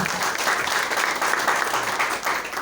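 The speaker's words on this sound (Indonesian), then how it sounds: "Berikan tepuk tangan yang meriah bagi Tuhan." A church congregation breaks into sustained, lively applause, dense and close, with steady clapping throughout and little else beneath it.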